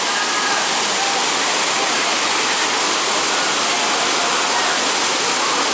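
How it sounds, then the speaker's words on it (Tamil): Waterfall pouring at Hogenakkal Falls in Tamil Nadu, a loud, steady, broadband roar of falling water that fills the scene without a break. "அருவி கொட்டுறது, போட்டிங் போகிறதெல்லாம் அருமையான இடம்"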